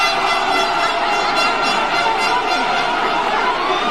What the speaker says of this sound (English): That's right. Air horns.